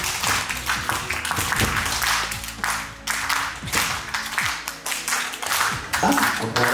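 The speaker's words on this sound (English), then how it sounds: "We need a very smart clap." A group claps together at a graduation party, a steady run of sharp, fairly loud claps with voices talking over them.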